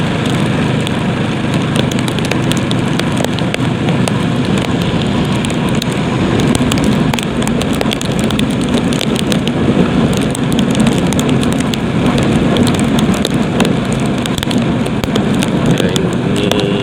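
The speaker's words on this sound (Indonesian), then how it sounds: "ini suasananya hujan ya di pedesaan ini, pada khususnya di Kabupaten Sebelu ini hujan terus menerus ini ya" Continuous heavy rain falls over a village in Aceh, Indonesia, a loud, dense, unbroken wash of patter close to the microphone with no pauses.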